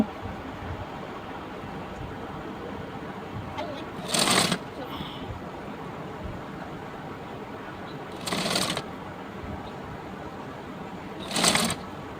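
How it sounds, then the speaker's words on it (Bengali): Sewing machine stitching a cross pattern onto a salwar, heard as three short, separate bursts of rapid machine whirring with quiet pauses between them. "এভাবে আমি ক্রস করে করে সেলাই করে যাব"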